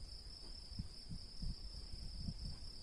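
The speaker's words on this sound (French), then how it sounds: "Et écoutez l'espèce de petite cigale." A small cicada shrilling on an evening outdoors, a thin continuous high buzz held steady and faint throughout, with soft low bumps beneath it.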